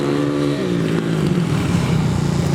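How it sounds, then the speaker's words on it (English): A Kawasaki KXF 450 motocross bike on knobbly tyres roars past with a loud, steady engine note that rises and falls slightly as it is ridden, close by and with no voices. "this is a motocross bike fully set up for the motocross"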